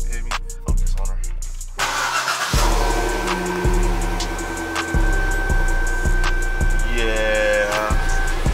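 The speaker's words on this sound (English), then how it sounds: "let me get y'all a little fresh, little cold startup" A Jeep Grand Cherokee Trackhawk is cold-started on a chilly day, its engine catching with a loud low rumble and then settling into a heavy, pulsing idle with repeated throttle blips, close and strong throughout.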